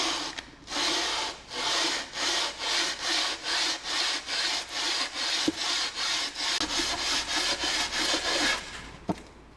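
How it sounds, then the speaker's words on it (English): Steady rhythmic back-and-forth scraping of sandpaper on an engine block surface, about two strokes per second, close and continuous for several seconds. "We're gonna just sand this down with the flat surface of the glass"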